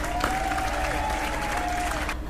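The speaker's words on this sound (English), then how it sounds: "Give it a round of applause for her." Applause from a classroom audience, steady and fairly dense clapping for a couple of seconds with a faint tone running underneath and murmured voices, then cutting off abruptly.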